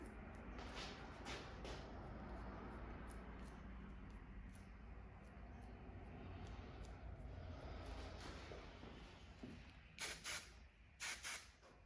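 Bursts of hairspray hissing from an aerosol can onto a short natural-hair pixie cut, a long continuous spray followed by several short puffs near the end.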